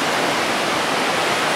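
Strong, rough sea waves roll onto sandy Kamala beach in Phuket, giving a dense, continuous roar of surf with no breaks or speech.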